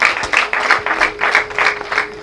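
Wedding guests clap in a loud, rhythmic burst of applause, regular claps repeating about twice a second, close and alone.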